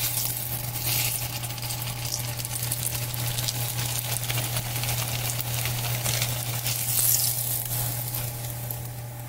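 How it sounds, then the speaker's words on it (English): Malanga taro nuggets deep frying in hot oil, a steady close sizzle with crackling bubbles and a constant low kitchen hum, no voices. "We're going to fry up some more"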